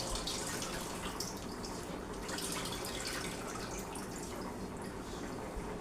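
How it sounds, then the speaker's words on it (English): Running water from a tap pours steadily over leftover blended fruit pulp being washed in a sieve to rinse out the remaining juice, a continuous close splashing with dripping. "So you put it in there and wash out your food."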